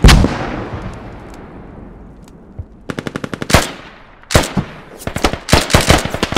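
Mortar shells slamming down in a tactical multiplayer squad shooter, a fading boom followed by rapid crackling clusters of impacts in quick repeated volleys, loud and close with no talking.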